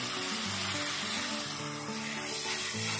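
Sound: chopped tomato frying in spiced masala

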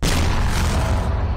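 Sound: explosion destroying enemy tank in video game Arma 3

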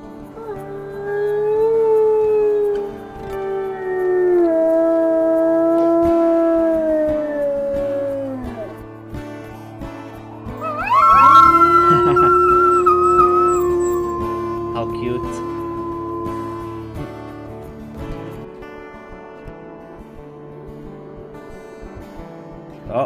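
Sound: wolf howling in WolfQuest 3 video game

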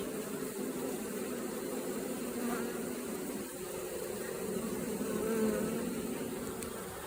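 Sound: honeybees buzzing at hive entrance

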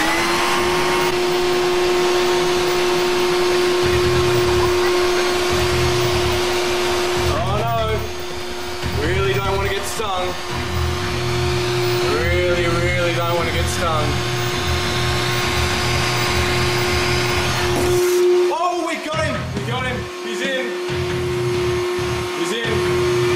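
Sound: vacuum cleaner running, sucking up a European wasp

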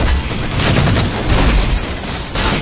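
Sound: assault rifle gunfire in Halo, from a video game

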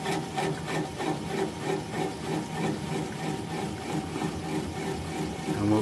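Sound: wood gouge cutting bottom of bowl on lathe

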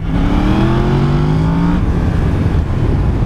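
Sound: sport motorcycle engine revving

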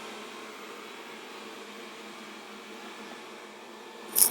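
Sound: robot vacuum cleaner running

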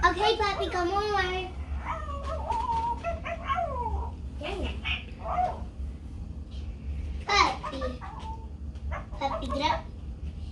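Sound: puppy

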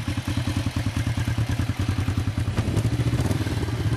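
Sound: Kawasaki Vulcan 500 twin cylinder motorcycle engine running

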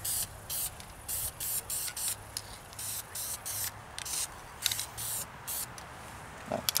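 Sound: spray painting a Holley carburetor with metallic paint

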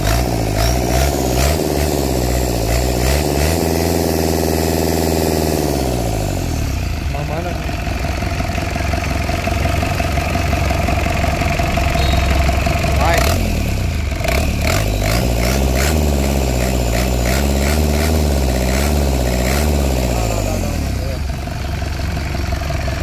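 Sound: Mitsubishi K4F turbo diesel engine running and revving

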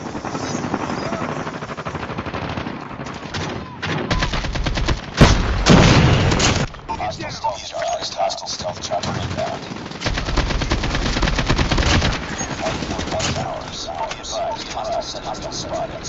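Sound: helicopter gunfire in a video game

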